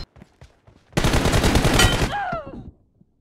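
A dense, loud burst of rapid gunfire in PUBG lasting about a second, preceded by a few scattered clicks and followed by a short ringing tail.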